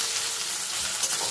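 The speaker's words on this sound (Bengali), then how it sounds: "কোচানো পেঁয়াজ এর মধ্যে দিয়ে ভেজে নেব।" Sliced onions fry in hot oil in a pan for a Bengali boal fish dish, giving a steady, close, crackling sizzle with no voices.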